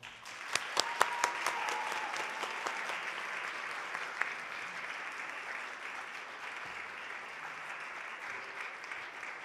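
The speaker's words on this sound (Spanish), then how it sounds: "Otro aplauso grande para mamá Pati" Audience at a school awards ceremony applauding steadily, a few sharp claps standing out early before settling into an even, moderately distant wash of clapping.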